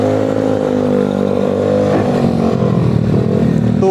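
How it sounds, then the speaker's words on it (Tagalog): A 232 cc sporty motorcycle with a loud, wide-mouthed exhaust revs up and pulls away, a deep throaty drone that rises in pitch as it accelerates, loud and close with no talk over it. "Grabe yung tambutso niya, no? Ang laki ng bunganga."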